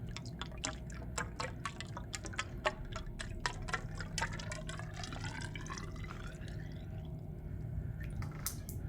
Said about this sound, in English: To prime the pump, what you need to do is fill up the inlet line.